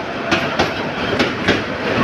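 At a rail junction, the Dhaka Mail train rolls past with loud, close wheel rumble punctuated by four evenly spaced clacks as the cars cross rail joints, and nobody speaks.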